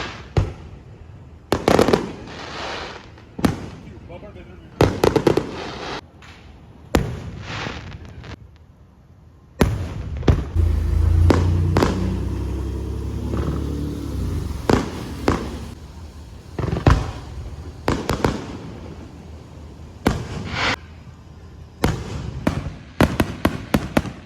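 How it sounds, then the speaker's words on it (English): Fireworks launched from a cruise boat on Lake George, heard as a series of sharp bangs and booming bursts, some in quick clusters and others spaced apart, with a rumbling stretch in the middle, carrying across open water at a moderate distance. "The firework cruise."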